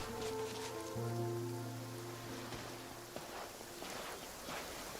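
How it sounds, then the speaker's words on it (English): Rain falls in the video game Genshin Impact, a steady, soft hiss of drops that continues throughout under sustained musical tones. "It seems to be raining again."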